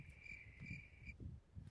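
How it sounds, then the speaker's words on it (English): A cricket chirps in a steady high trill, running continuously for about a second before cutting off, over a low background murmur. "a little cricket noise right there"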